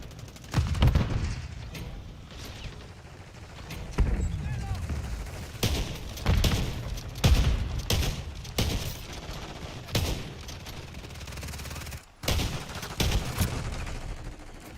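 Heavy shotgun blasts from a Lockwood 680 firing slug rounds in a Call of Duty zombies match boom out at irregular intervals, close and loud, amid other game gunfire while someone talks over them.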